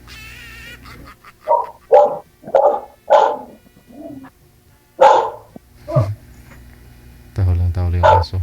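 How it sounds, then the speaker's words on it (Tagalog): A dog barks in a series of sharp, close barks, roughly eight or nine spaced out over several seconds, with some yips and a person talking near the end. "Tahol yung aso."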